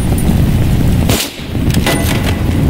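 A single sharp video game gunshot cracks over a constant roaring background, followed by a few fainter cracks trailing off.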